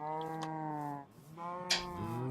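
Cows mooing on a farm in the video game Minecraft, two long, clear, tonal moos close by, with a short break between them.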